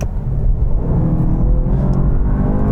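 BMW M5 cars, one a 1,000-horsepower build, launch at full throttle in a rolling drag race against an M5 Competition and M550i, a loud, deep engine roar and rumble that stays steady and heavy throughout.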